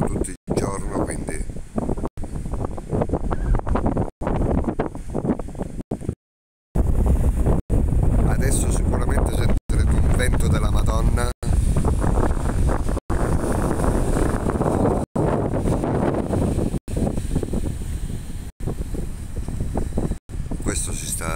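Steady, loud wind buffeting the microphone throughout at Corralejo, Fuerteventura, Canary Islands, with brief dropouts and a person talking over the rumble.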